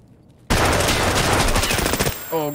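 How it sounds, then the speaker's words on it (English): Loud bursts of rapid automatic gunfire in the video game Escape from Tarkov start abruptly and rattle on for about two seconds before cutting off, leaving a short tonal hum at the end. "Shot me straight in the visor, took 8 points."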